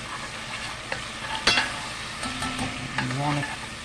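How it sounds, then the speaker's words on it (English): Garlic sizzles as it is stirred in a pot on the stove with beef tips and gravy underway, a steady frying hiss broken by scraping spoon strokes and a few sharper clinks, close and continuous with no talk. "You want to stir it around and cook it until you smell it"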